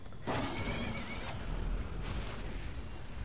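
A horse whinnies loudly in the video game Skyrim, a long wavering neigh over a low rumbling background, with hoof clatter mixed in.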